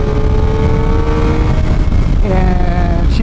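A Suzuki GSX-R 750 motorcycle engine hums steadily at close range, its pitch dipping and then climbing again as revs rise after a downshift, loud and continuous with no talk.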